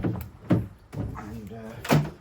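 A car door thuds and clunks open at close range in a paintless dent removal workspace, sharp knocks spaced across two seconds with a voice talking between them.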